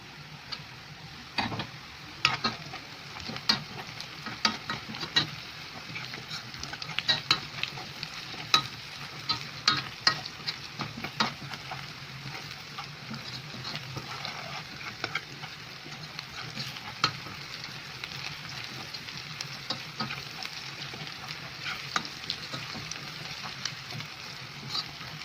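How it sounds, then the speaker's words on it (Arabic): Chopped garlic fries in oil in a pan, a steady close sizzle with frequent sharp ticks of the spoon scraping and stirring throughout, with no voices. "ننزل بقى بالثوم بتاعنا"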